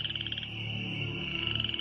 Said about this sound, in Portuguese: No Egito, milhões de rãs do rio Nilo saíram da água e invadiram as terras.